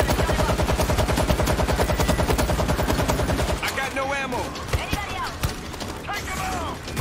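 Rapid automatic gunfire in the World War Z Aftermath video game, loud and continuous for several seconds, then giving way to game effects and someone talking.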